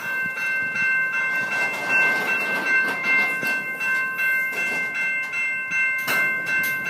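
A train heard from inside a carriage rolls off slowly, with rhythmic clunks and creaks over a steady rumble and a faint sustained high tone, at moderate loudness without speech.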